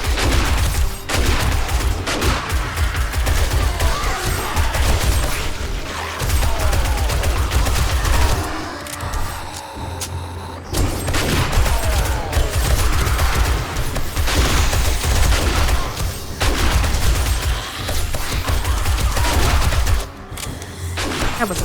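Sustained heavy gunfire during a horde night in 7 Days to Die, a continuous loud fusillade of overlapping shots with brief dips, running the whole stretch without talk.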